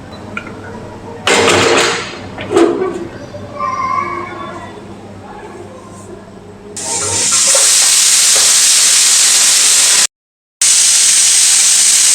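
A pressure cooker cooking rice lets out a loud, steady steam whistle that runs for several seconds, briefly cuts off, and then resumes, following quieter kitchen clatter and some talk.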